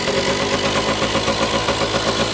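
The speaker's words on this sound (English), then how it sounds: "Idle's nice and low." A KD80 engine runs at a steady, low idle just after starting, a loud, close, even mechanical drone with a regular pulsing beat and no talking.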